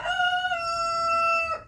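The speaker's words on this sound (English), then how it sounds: "that rooster really needs to get out" A rooster crows nearby, one loud, sustained cock-a-doodle-doo that holds steady before cutting off abruptly, with no talk over it.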